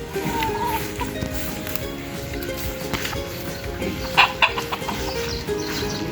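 Backyard chickens of a prized bloodline cluck steadily in a close, busy mix, with a few sharper squawks standing out near the end; a faint voice is heard in the background.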